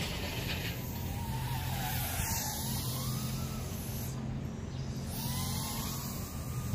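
A Babyhawk R quadcopter fitted with Avan 2.5-inch props flies at a moderate distance, its motors a whirring whine that rises and falls in pitch as it punches out and turns.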